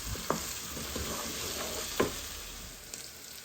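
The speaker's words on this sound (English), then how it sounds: "frying this potato with all the spices" Potato fries with spices in a pan, sizzling quietly with a steady frying hiss, broken by a few scraping stirs of a utensil.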